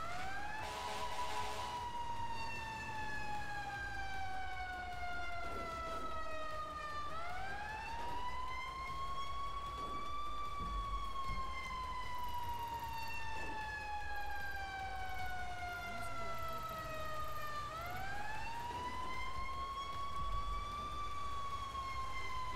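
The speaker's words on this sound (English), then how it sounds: "just go ahead and just cut the sirens off" Emergency vehicle sirens from a fire department response wail in long rising and falling sweeps, loud and continuous over road noise, repeating about every ten seconds with no voices.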